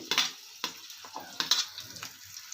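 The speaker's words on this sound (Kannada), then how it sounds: "ಬೆಳ್ಳುಳ್ಳಿ ಹುಣಸೆಹಣ್ಣು ಚಕ್ಕೆ ಲವಂಗ ಈರುಳ್ಳಿ ಕಳೆಬೀಜ ಇವೆಲ್ಲ ಫ್ರೈ ಮಾಡ್ಕೋಬೇಕು ಆಯಿಲಲ್ಲಿ" Garlic, tamarind, cinnamon, cloves and onion frying in oil for a lentil sambar, with a light crackling sizzle and several short stirring scrapes, close and fairly quiet with no talking.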